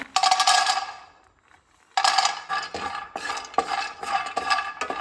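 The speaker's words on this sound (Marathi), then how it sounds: "सगळ्यात पयलीं हे हांवें हांगासर हितून बादाम घातल्या." Almonds tipped into a heated pan for dry roasting make a bright, close rattling clatter against the metal, coming in two bursts separated by a short lull, with no talking.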